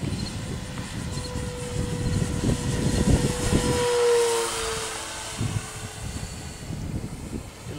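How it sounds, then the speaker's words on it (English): A radio-controlled scale model airplane flies in wind, its steady broadband whir and drone droning continuously with gusty wind noise for about eight seconds, no voices heard. "Yeah, it's a good looking airplane."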